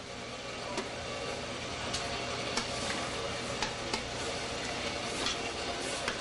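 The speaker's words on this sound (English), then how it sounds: "Give it a stir." Vegetables for New England clam chowder, seasoned with garlic powder, thyme and black pepper, are stirred in a pot, making a steady low sizzle with repeated scraping clicks of the spoon, close by and without talk.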